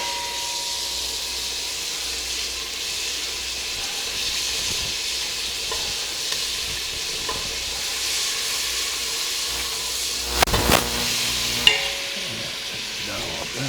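Flour is stirred into melted butter in a pot, with a soft, continuous sizzle and hiss and a few light scrapes and clinks of the spoon near the end.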